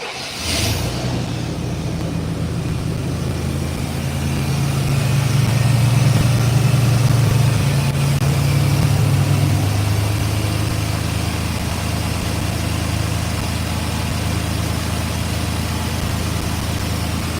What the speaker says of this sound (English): I just cranked this truck up and drove it in here